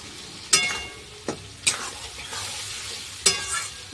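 Spices fry with coriander leaves and a little water for a tangra fish curry while a spoon stirs the pan, giving a soft continuous sizzle broken by four sharp scraping clanks against the vessel.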